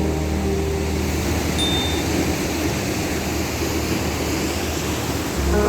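Large ocean waves breaking steadily near a blue lagoon in Magtaon, Mapanas, Northern Samar, a continuous loud roaring wash of surf with no pauses and no voices.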